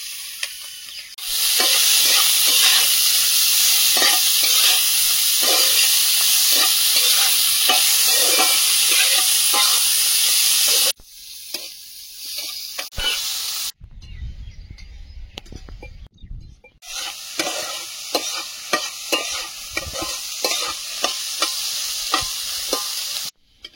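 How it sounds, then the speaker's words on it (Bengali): Prawns frying in hot oil for a pumpkin-leaf shrimp dish, a steady loud sizzle with repeated stirring scrapes, broken by a short pause, then the sizzling and stirring return. "চিংড়িটা ভাজা হয়েছে, তুলে নেব আলুর পাশে"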